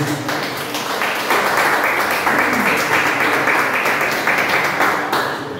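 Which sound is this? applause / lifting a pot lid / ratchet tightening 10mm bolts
applause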